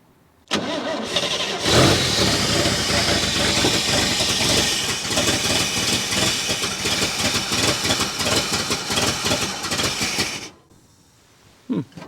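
A 1966 International pickup truck, abandoned for decades and with carburetor trouble, cranks and fires up loudly, roaring and idling roughly for about nine seconds before shutting off, followed by a couple of faint knocks.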